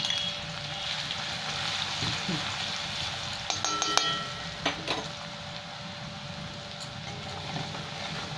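Crushed garlic and fenugreek seeds frying in oil for a Bengali fish curry, a soft steady sizzle with a few light clinks of a utensil against the pan in the middle.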